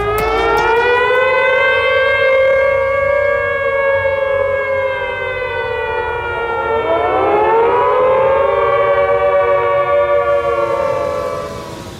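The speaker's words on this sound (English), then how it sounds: "we're going to sound the sirens in Dallas County" A civil defense tornado siren wails across Dallas County, one long loud rising and falling tone that holds near full strength for about twelve seconds before tapering off, with no voices.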